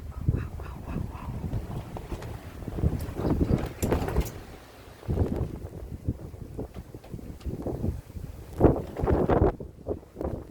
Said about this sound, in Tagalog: Lakas ng hangin. Oh, bumabagyo na.